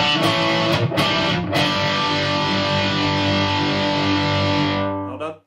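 Distorted electric guitar played through a Kemper amplifier with the pick setting turned to maximum, loud sustained chords with a few sharp attacks near the start, ringing out before cutting off at the end.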